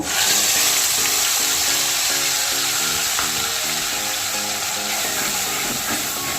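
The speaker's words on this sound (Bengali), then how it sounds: "আমি টমেটো পেঁয়াজ একসঙ্গে পেস্ট করে নিয়েছি, এটা এর মধ্যে ঢেলে দেব" A paste of onion and tomato goes into hot oil with spices and gives a loud, steady hiss and sizzle from start to finish, with faint music running beneath it.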